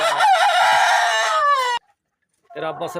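A rooster lets out a loud, close, drawn-out crow that cuts off abruptly, followed by a short silence, then chickens clucking nearby.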